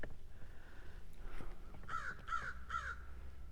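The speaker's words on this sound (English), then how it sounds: "Mr. Crow's up there," A crow caws from up in the trees over a riverbank on a rainy day, first a faint call and then three evenly spaced, clear caws at moderate distance over a soft background hiss.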